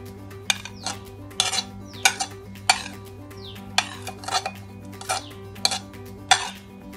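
Chopped onions, grated carrots and chopped cucumber being mixed in a bowl, with a spoon clinking and scraping against the bowl in a steady, repeated rhythm close by.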